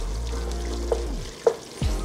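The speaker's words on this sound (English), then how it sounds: "We're gonna go ahead and just mix all this together." Chili powder, cayenne, paprika and cumin being stirred in a pot, a low steady sizzle with a few soft scrapes and clinks of the spoon, close and quiet without talk.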